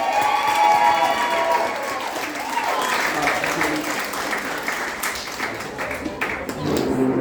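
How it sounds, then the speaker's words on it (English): Wedding reception guests clap and cheer loudly, a dense crowd applause that carries on steadily across the whole stretch with voices and whoops mixed in. "Round of applause for Laura, as you already are"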